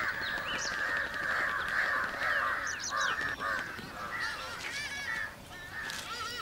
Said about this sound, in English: It's the moment the crows have been waiting for.